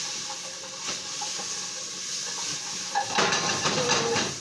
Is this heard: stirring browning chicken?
yes